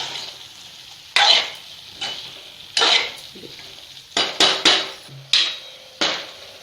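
A spoon scrapes through brinjal ginger curry in a pan: a series of sharp, irregular stirring strokes up close, each a short scraping burst with quiet gaps between.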